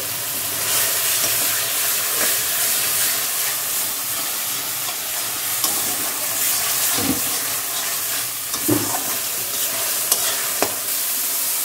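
A ground paste of coriander, cumin and dried red chilli fries steadily in a pan of hot oil, giving a continuous loud sizzle and hiss, with a few soft scraping knocks from stirring and no voices.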